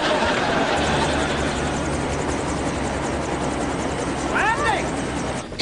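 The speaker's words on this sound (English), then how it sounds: "It sounds like a helicopter or something." A helicopter rumbles steadily nearby, its broad churning roar continuous throughout, with a brief voice rising over it near the end.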